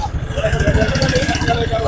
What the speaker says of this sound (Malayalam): വണ്ടികള് ഇങ്ങനെ വരുകയാണ്